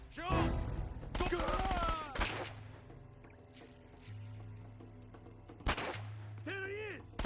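Gunfire in Uncharted: Drake's Fortune erupts in loud broadband bursts that come and go across the clip, mixed with game effects and a voice talking over it.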